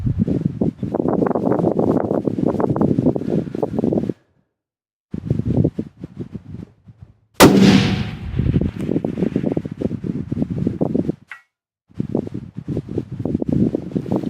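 A single sharp .308 rifle shot cracks out mid-clip at a 1,000-yard AR500 steel target, surrounded by gusty wind buffeting the microphone and brief quiet gaps.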